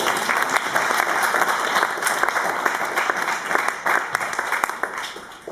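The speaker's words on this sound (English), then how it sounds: "So big round of applause." An audience gives a lecture speaker a steady round of applause, dense overlapping claps sustained throughout with no talking.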